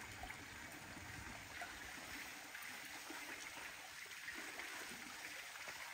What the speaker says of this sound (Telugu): మీకు అక్కడ కనిపిస్తుంది ఎట్లా వాటర్ వస్తున్నాయో.